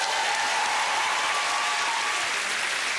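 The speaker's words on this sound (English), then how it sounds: "Give them a massive round of applause." Studio audience applause on the game show All Star Family Fortunes, a loud, continuous wash of clapping that stays dense and even throughout.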